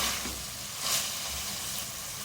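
Minced meat qeema frying in a pan, a faint, soft sizzle and hiss with a brief louder burst partway through.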